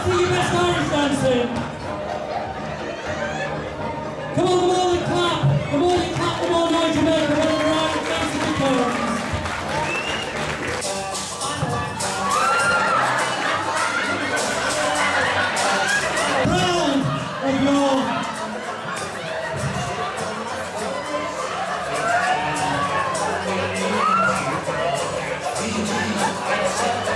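Crowd at a comedy stage hypnotist show for Rochdale Cobras clapping and cheering, a continuous rowdy mix of applause, shouts and chatter with loud voices and music running throughout.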